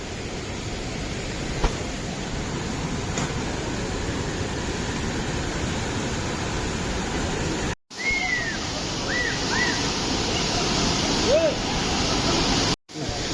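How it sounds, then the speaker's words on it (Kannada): A hidden waterfall near Honnavar gives off a constant rushing wash of falling water. A few faint, brief chirps sound over it, and there are two sudden short dropouts. "ನೋಡ್ದೇನೆ ವಾಟರ್ ಫಾಲ್ಸ್."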